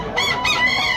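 An Alabama Black gamefowl rooster, a year-old bullstag, lets out a loud, close crow in a single drawn-out call that starts after a brief pause.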